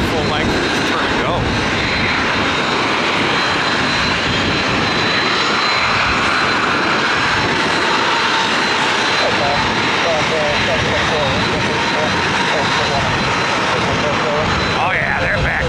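Falcon 2000 business jet engines rumble and whine steadily at Tampa airport as the aircraft taxis, a continuous loud roar with a high tonal whine, heard from nearby with wind buffeting the microphone.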